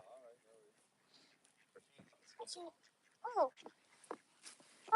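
Ducks on a river quack in several bursts, some loud and close, mixed with a person talking quietly and a few other scattered outdoor sounds.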